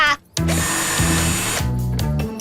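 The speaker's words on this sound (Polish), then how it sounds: "wiertarka!" A cartoon power drill whirs loudly in bursts in a Rubble and Crew children's cartoon, its motor pitch rising and falling as it bites, with a short pause near the start.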